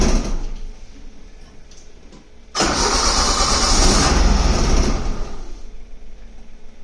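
A car engine cranks briefly after its fuel pump primes, then catches and settles into a loud, steady idle close by, with no talk over it.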